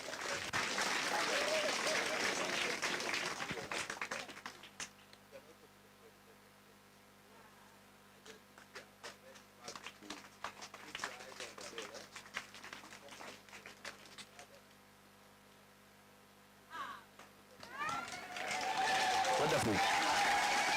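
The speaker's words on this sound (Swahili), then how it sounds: "Makofi kwake." Bursts of clapping for a pupil at a primary school event in Othaya with the county governor, loud at the start and again at the end, with a quieter stretch of talk and crowd noise between.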